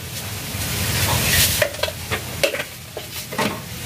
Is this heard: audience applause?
no